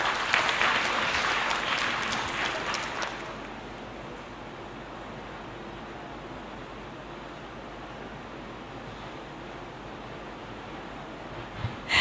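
Clapping from a Thai school event audience sounds for about three seconds, then cuts off sharply, leaving low hiss and room noise for the rest, with a small bump of sound near the end.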